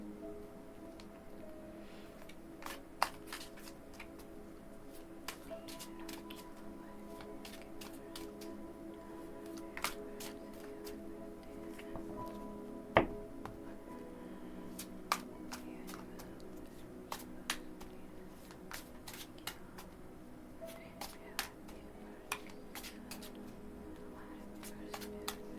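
A tarot card deck is shuffled by hand, soft crisp card flicks and taps at irregular intervals, close but faint over a quiet room hum.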